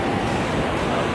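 Strong, rough ocean surf at Petitenget beach in Bali, a dense, steady wash of breaking waves with wind noise filling the short stretch, heard close and loud.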